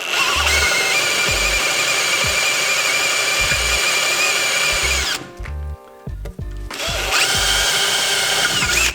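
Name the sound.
drilling aluminum plate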